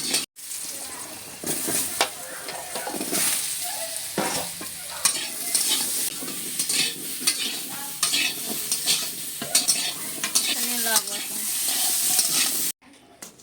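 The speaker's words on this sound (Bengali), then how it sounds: "আলু আর কুমড়ো ভেজে নিলাম" Potato and pumpkin fry in a wok, a constant close sizzle broken by frequent scraping stirs and clinks of a spatula against the metal, continuing alone for most of the stretch before cutting off abruptly near the end.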